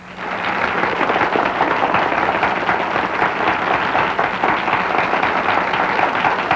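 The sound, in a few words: studio audience applause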